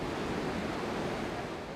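A raging torrent of water pours down the Oroville Dam spillway, a continuous dense roar with no breaks, steady throughout.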